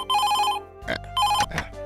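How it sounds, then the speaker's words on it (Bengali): A telephone rings early in the morning in an animated comedy, with two short bursts of electronic ringing separated by a brief pause and no speech. "রিং হচ্ছে। এই সাত সকালে আবার কার দরকার পড়লো?"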